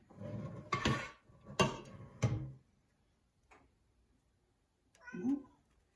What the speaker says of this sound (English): Yep, that's my cat.